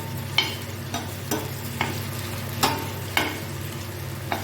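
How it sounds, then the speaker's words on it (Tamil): Boiled eggs being fried with salt and turmeric for egg masala, sharp spatula scrapes against the pan every half second or so over a low steady frying hum, close and without voices. "இது வேக வச்ச முட்டைங்கிறதுனால வந்து நம்ம லைட்டாக உப்பும் மஞ்சத்தூளும் போட்டு லைட்டாக ஃப்ரை பண்ண போதும்"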